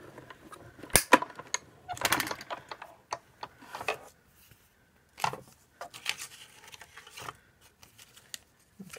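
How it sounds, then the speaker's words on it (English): Die-cutting machine pressing layered circle dies through card and washi paper: intermittent close mechanical clicks, cranking rattles and handling noises in irregular bursts, with no speech. "we're going to cut both of our pieces here at the same time"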